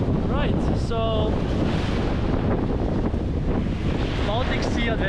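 A steady, loud wind roar batters the microphone on a windy Baltic Sea beach in Rewa, Poland, with waves underneath and a person talking in bursts through the gusting noise.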